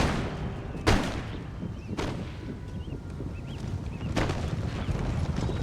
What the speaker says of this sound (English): I just fired a volley into the artillery because I knew that it would hit the Warrior Society as well.